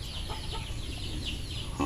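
Native chickens clucking on a farm, a few soft, scattered clucks over a low, steady background hum.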